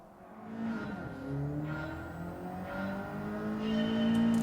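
A 1996 Nissan Silvia S14 race car at Brands Hatch in Gran Turismo 7, its engine droning and climbing through repeated rising revs as it shifts up, steady and fairly close, with faint tire squeal.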